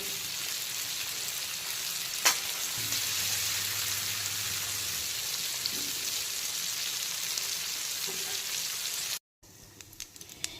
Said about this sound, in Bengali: এখন কিন্তু একে একে আলু আর বরবটিগুলোকে ভেজে তুলে নিয়েছি।